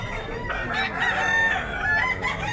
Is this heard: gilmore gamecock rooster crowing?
yes